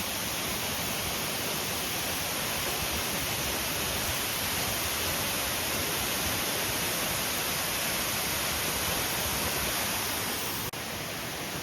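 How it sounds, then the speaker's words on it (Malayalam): Water flowing over orange-coloured rocks, a steady close rushing wash that holds at the same level the whole time, with no voices. "ഇവിടെ വെള്ളം ഇങ്ങനെ ഒഴുകി പോകണുണ്ട് കേട്ടോ"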